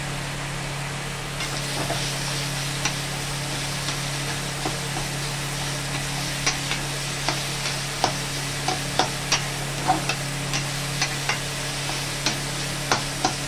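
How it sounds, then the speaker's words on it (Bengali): Mashed jackfruit sizzles steadily in a pan over low gas while a spatula scrapes and clicks repeatedly against the metal, with no voices. "এবার গ্যাসটা কমিয়ে এটা খুব ভালো করে ভাজা ভাজা মতন করে নেব"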